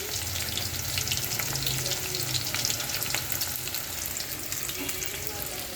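Goat tripe, cleaned and pre-boiled with turmeric, sizzles steadily in hot oil in a home kitchen, a dense continuous frying crackle with a faint stirring scrape, close and unbroken throughout.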